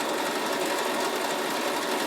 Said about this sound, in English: you can make your fabric using your sewing machine as well